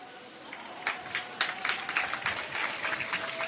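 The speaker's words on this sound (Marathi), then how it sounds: "टाळ्या वाजवल्या म्हणजे." An audience claps at a devotional gathering, a brief, moderately faint patter of hands rising after a short murmur of voices.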